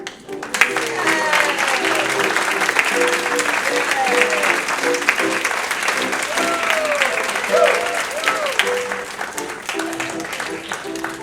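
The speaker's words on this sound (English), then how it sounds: "Now I would like to call out our commercials chorus for a round of special applause." Sustained audience applause fills a trivia show venue, steady and fairly loud throughout, with some cheering and voices mixed into the clapping.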